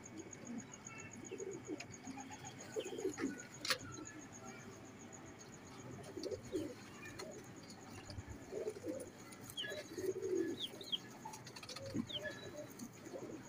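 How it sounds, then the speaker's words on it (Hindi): Pigeons of a prized bloodline coo softly in a loft, low repeated calls scattered through steady ambient noise with faint chirps and distant bird sounds, no one speaking. "इस चौधरी सखी साहब वाली ब्लड लाइन से कबूतर है माशाल्लाह"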